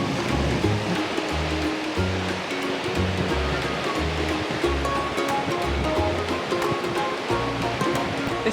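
Sea waves break on the beach near La Mata, Torrevieja, a loud, continuous wash of surf with a steady low rhythmic thumping beneath it.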